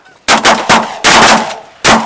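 Shotguns blast at passing geese on an opening-day goose hunt in Fort Loudon, Pennsylvania: four loud, close reports in quick succession, each ringing out briefly before the next.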